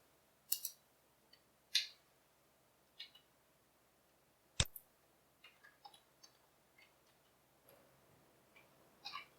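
Computer mouse clicks on a quiet desk, scattered single and double clicks at irregular intervals, one notably sharp and loud, with no talking.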